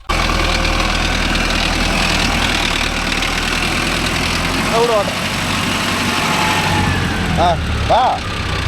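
Diesel engine of a Mahindra Arjun Novo 605 DI tractor running steadily at close range, a loud continuous idle with low rumble, under excited outdoor voices.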